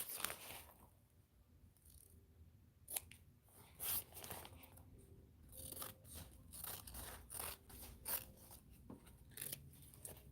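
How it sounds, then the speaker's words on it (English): Scissors snip and crunch through fabric in a sewing room, a series of close, crisp cuts with irregular pauses between them, quiet and with no talking. "Scissors. My scissors."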